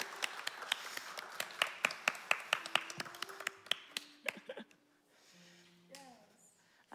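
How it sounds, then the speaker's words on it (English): A church congregation breaks into scattered, fairly sparse clapping that fades out after about four seconds, followed by a few soft sustained tones. "It's appropriate now to share our applause"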